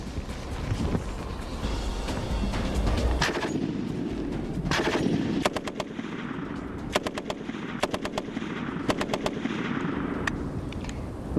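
Mag 58 machine gun firing during a mass-attack defense, heard as sustained rapid bursts of sharp shots with repeated cracks, loud and close over a continuous noisy background.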